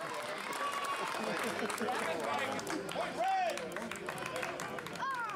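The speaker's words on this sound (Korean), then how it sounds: "사람들의 함성 소리가 들린다." Crowd at a medieval knights' duel show raising a loud, continuous roar of shouts and cheers, with individual rising yells poking out above the massed noise.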